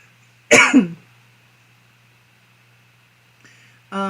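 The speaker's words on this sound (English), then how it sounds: "I'm coughing." One loud, harsh cough bursts out near the start, followed by quiet stillness and a faint brief sound before a short tone near the end.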